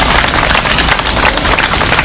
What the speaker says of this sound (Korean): 박수로서 한번 힘내시라고.